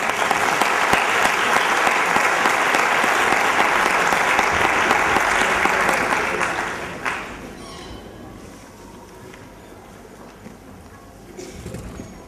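An audience at a music competition concert bursts into loud, dense applause that lasts about six seconds, then fades into a quiet hall with faint stray claps and rustling.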